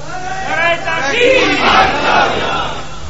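A crowd chants religious slogans together, loud massed voices rising and falling in a rhythmic call over a few seconds.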